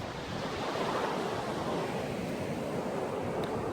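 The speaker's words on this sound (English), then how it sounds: "Here's the sea, look." Sea waves wash continuously onto a sandy beach, a broad close rushing surf with some wind noise against the microphone and no speech.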